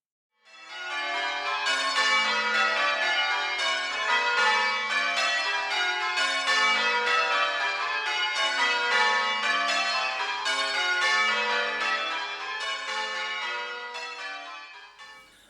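A ring of twelve church bells peals at the Minster Church of St Cuthburga in Wimborne Minster, with rapid overlapping change-ringing strikes that continue steadily for about fifteen seconds before fading slightly at the end, clear and full with no voices.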